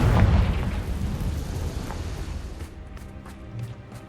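A Confringo fire-blast spell in Hogwarts Legacy bursts with a loud, deep boom at the start, then rumbles and fades over a few seconds into quieter crackling debris.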